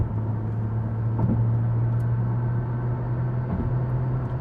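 A 2016 Nissan GT-R cruising at around 72–73 mph on the highway, heard from inside as a steady low engine drone and road rumble, constant and moderately quiet with no talking.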